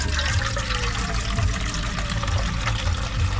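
Steady splashing water pours continuously into a cooking pot for dinengdeng, close and fairly loud, with a constant running rush and no voices.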